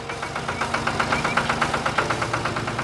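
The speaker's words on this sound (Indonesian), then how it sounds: "Traktor merah beraksi di tengah ladang yang indah." A red farm tractor in an animated farm scene chugs steadily, its engine knocking in an even, rapid rhythm at moderate loudness with no voices over it.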